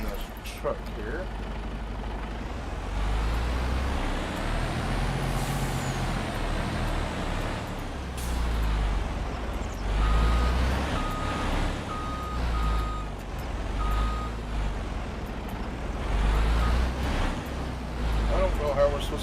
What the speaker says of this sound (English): Get in this truck here.